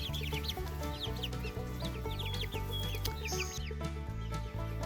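Chickens cluck in a small backyard flock that includes a young Seabright rooster, with busy, overlapping clucks and chirps close by over a steady background hum.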